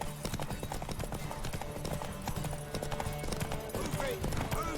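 A horse's hooves clip-clop in a rapid, steady rhythm through a medieval-fantasy race scene, thrown in with shouting voices and noisy background.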